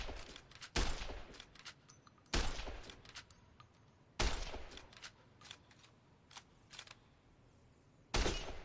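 Gunshots fired at sarsaparilla bottles on a fence in Fallout New Vegas: four sharp, loud reports spaced a couple of seconds apart, each with a brief echoing tail, over quiet ambient background.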